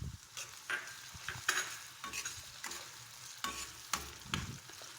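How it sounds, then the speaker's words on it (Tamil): Ginger garlic paste sizzles in a pan while a spoon stirs it in short scraping bursts, close up and quiet, for dhaba-style rajma masala curry. "இப்போ இஞ்சி பூண்டு விழுதை ஒன்றா கலந்து விட்டுக்கலாம்."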